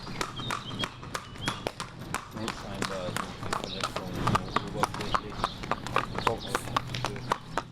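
Horse hooves clip-clop in steady repeated strikes on a hard stable floor near an injured racehorse, close and fairly loud, with voices talking over them.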